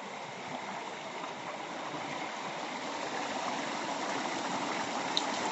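A forest stream flows steadily through the whole stretch, a dense, continuous rush of running water that stays close and even, with no voices.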